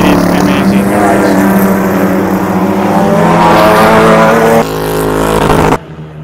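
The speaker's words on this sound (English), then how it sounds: "The sound from these racing cars is too loud" Sedan racing cars roaring past at Katherine speedway in Australia, a loud continuous engine blare with shifting pitch that dominates the clip, then cuts off abruptly near the end.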